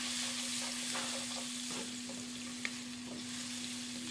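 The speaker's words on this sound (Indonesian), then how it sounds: "ini masukkan margarin, kemudian tumis bawang bombay dan bawang putih yang sudah dicincang halus" Onion and garlic sautéing in margarine in a pan, a steady loud sizzle with occasional stirring clicks from a utensil, close up and continuous, no speech.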